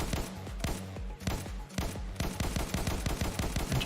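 Rapid bursts of unscoped gunfire from a video game weapon in a playtest, sharp repeated shots firing fast and close, with brief pauses between volleys.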